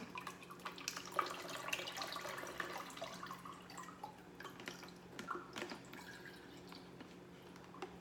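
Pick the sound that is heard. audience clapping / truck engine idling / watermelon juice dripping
watermelon juice dripping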